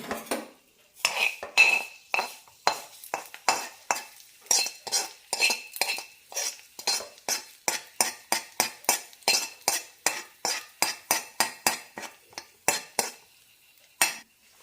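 A spoon stirs carrot chutney tempered with mustard seeds, curry leaves and red chillies, scraping and clinking against the dish in a steady rhythm of about thirty close, even strokes, with no talk over it.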